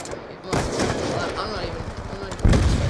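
Gunfire in Black Ops 2 as a wallbang shot goes through a wall, heard as loud, dense bursts of shots and impacts with a sharp blast near the end, under a voice.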